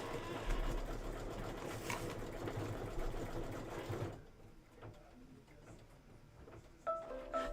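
An embroidery sewing machine stitches a door decor project in a steady rapid whirring hum for about four seconds, then stops, leaving faint room noise and small clicks.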